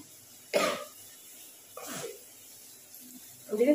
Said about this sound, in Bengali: দেখেছো কেমন কাশি হয়েছে?